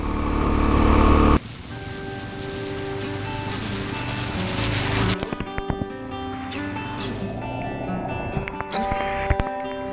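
Dual-sport motorcycles, a Suzuki DRZ400S and a Honda CRF250L, riding in the Ozark Mountains near Eureka Springs, Arkansas: a steady engine drone that holds for the whole stretch after a louder opening burst, with a few sharp knocks over it.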